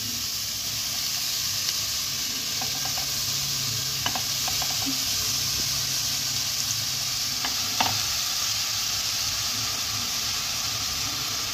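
Grated carrot is stirred gently in a pan over low to medium heat for gajar halwa, giving a steady soft frying sizzle with scattered light scrapes and clicks of the spoon.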